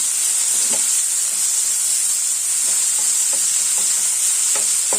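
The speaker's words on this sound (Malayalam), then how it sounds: "പാവയ്ക്കൊക്കെ നന്നായിട്ട് ഒന്ന് വഴറ്റിയെടുക്കാമേ." Bitter gourd sautés in a hot pan with a bright, steady sizzling hiss, broken by periodic soft scrapes and taps of a stirring spoon, close and loud.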